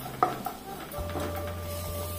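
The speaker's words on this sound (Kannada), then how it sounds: "ಹಾಕಿ ಒಮ್ಮೆ ಫ್ರೈ ಮಾಡಿಕೊಳ್ಳ" Spices and asafoetida fry in a pan of hot oil as tempering for a raw jackfruit dish, with a soft steady sizzle, a couple of stirring clinks and a low hum running underneath.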